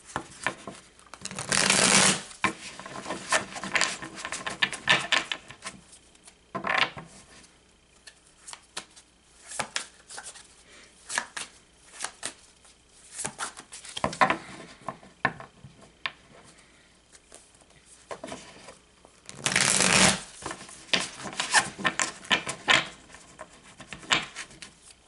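Tarot cards are shuffled by hand in bursts, with louder riffles near the start and again around the twentieth second and softer card handling in between, close and with no talking.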